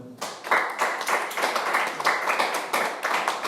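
A congregation claps rhythmically and steadily at an online church service, dense close hand-claps repeating through the whole stretch with faint voices underneath.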